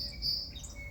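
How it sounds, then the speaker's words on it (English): Birds chirping outdoors in a garden, thin high tweets drifting at a distance over a steady low outdoor rumble, faint and continuous for a moment. "hear the birds"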